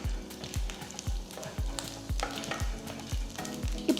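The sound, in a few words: chana dal, mustard and cumin seeds roasting in hot oil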